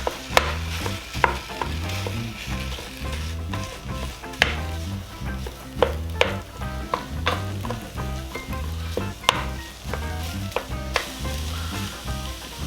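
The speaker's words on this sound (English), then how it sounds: "I'm gonna drop in my pound of ground beef and get it going. Got this on medium heat." A pound of ground beef browns in a pan over medium heat, sizzling steadily while a utensil scrapes and stirs it in a repeating rhythm, close and fairly loud with no talking.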